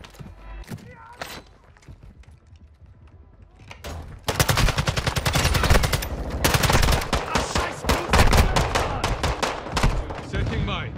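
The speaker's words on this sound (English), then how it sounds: "He's waiting to hear some shooting going on." Video game gunfire starts abruptly and continues as dense rapid bursts, loud and close, following a quieter stretch with a few isolated sounds and some talking.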